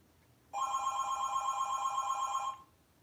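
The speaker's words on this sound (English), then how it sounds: "Okay, go away, phone." Indoor telephone ringing in one continuous two-second burst of bright warbling tones, fairly loud and close, with quiet room tone before and after.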